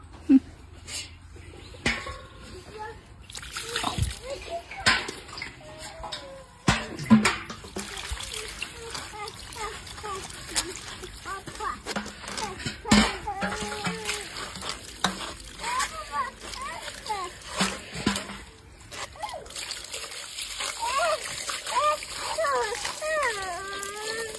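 Fish are washed by hand in water, with repeated splashes, trickles and sloshing throughout while people, including a child, talk over it.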